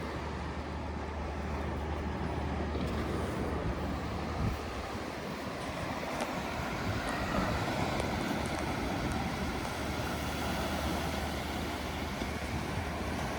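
Steady, broad wash of surf rolling continuously onto Rohile beach, with wind rumble beneath; no voices, a constant roar throughout.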